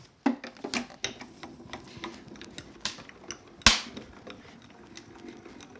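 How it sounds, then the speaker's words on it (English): A manual die cutting machine cranks plates through, giving off scattered cracking and popping clicks with one sharp loud snap near the end, close and fairly faint overall. "You'll hear the cracking and popping as these go through."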